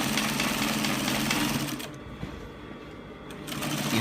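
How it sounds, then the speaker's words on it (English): An industrial sewing machine runs steadily, stitching the side seam of an agbada garment, with a close continuous whirring drone that dips briefly midway before picking back up. "It actually helps if you're using an industrial machine like myself."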